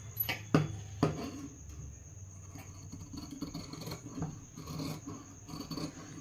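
Scissors cut through blouse fabric pieces to a measured size for a size 34 blouse, giving a few crisp rasping snips near the start that fade into a soft, low rustle.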